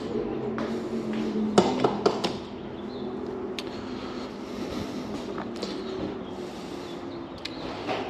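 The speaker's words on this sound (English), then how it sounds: "Stop the hammering." Hammering in a garage, a few sharp metallic knocks clustered early, then sparse fainter taps over a low steady background hum.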